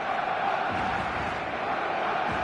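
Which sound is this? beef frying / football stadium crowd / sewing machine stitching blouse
football stadium crowd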